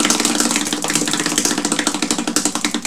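A prize wheel spins during a hockey card box break, its pointer rattling off the pegs in a rapid clatter that gradually slows into distinct, evenly spaced ticks, loud and close.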